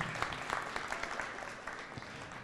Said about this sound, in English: how about a big round of applause for Nuvea?